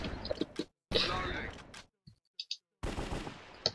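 AK-47 gunfire in the Minecraft Cops and Crims minigame, loud clattering bursts of rapid shots broken by sharp silent gaps and a few short clicks, with nobody talking.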